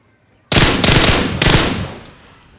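M416 assault rifle firing in a video game: loud, close automatic bursts that start abruptly, with two or three rapid volleys running together before trailing off.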